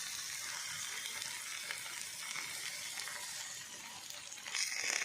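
Pomfret fish frying on a tawa, a soft steady sizzle with faint spatter, close but quiet, growing slightly louder at the end; no voices.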